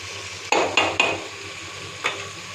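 Okra chutney with tomato and tamarind cooking in a pan gives a few sharp utensil knocks and scrapes, three in quick succession and then one more after a pause, over a faint steady background.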